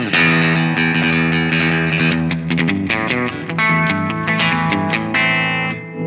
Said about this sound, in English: Let's do a spring reverb with this